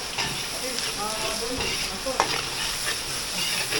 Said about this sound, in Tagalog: Lulutuin lang natin yung bawang sibuyas natin sa luya.